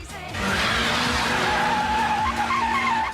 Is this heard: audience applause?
no